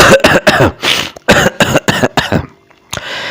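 A man coughs hard several times in quick succession, loud and close, then a short pause before one last cough, with no speech.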